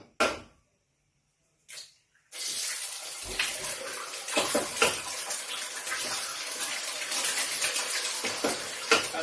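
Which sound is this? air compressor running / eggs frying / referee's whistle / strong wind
eggs frying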